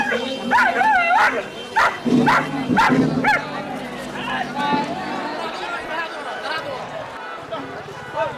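Dogs at a dog-running race in Kolhapur, where dogs chase behind a vehicle, give several close yips and barks mixed with whimpers, while people talk over the noise nearby.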